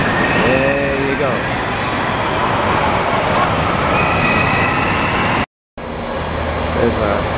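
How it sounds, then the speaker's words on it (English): A Green Line light-rail train heading toward Minneapolis rumbles past close by, a steady roar of wheels and motor with a squeal of rails, a brief cut partway through, and a voice speaking over it. "There's a green line train in heading towards Minneapolis."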